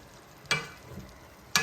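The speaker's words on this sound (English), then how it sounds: "Give it another stir." Two sharp scraping clatters a second apart, a utensil stirring spinach in a pot, over a faint sizzling background.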